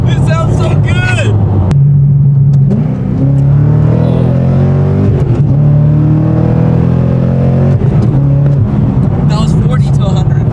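A straight-piped Corvette accelerating hard from 40 to 100, a loud raw exhaust roar climbing through gear changes with brief breaks between pulls, while people talk and exclaim over it.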